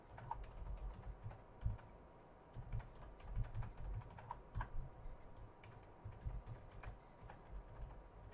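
Quiet, close typing on a computer keyboard while logging into an exam account, irregular soft key taps in short bursts with no talk.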